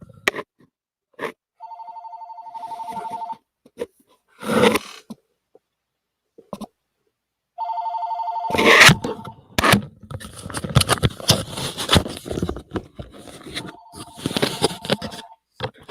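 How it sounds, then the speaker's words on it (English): A telephone rings in three separate bursts of electronic trilling, spaced several seconds apart, with clattering and rustling handling noises between and over the later rings. "The phone's ringing."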